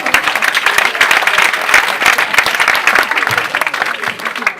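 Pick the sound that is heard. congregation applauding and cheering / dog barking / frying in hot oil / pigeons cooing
congregation applauding and cheering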